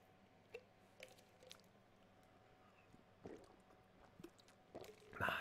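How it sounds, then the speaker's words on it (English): Water is sipped and swallowed indoors at a desk, giving a few faint wet gulps and small clicks spaced over several seconds, close and quiet, with no talking. "Have myself a little bit of water."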